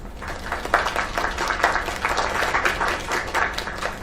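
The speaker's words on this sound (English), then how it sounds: "Another round of applause." An audience applauds a live song with steady, dense clapping that holds at full strength from start to finish.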